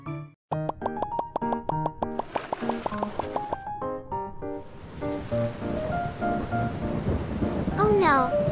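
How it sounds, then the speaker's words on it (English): Rain and rolling thunder sounding over a kitchen scene, blended with music and light tapping, a steady wash of rainfall building toward the end. "It's raining."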